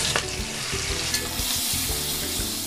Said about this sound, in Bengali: এবার ডিমগুলো আমি ভেজে নেব হালকা করে ভাজতে হবে ডিমগুলো